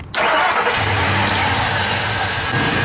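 A pickup truck engine cranks and catches, then settles into a loud, steady rumbling idle close by, filling the rest of the moment with no voices.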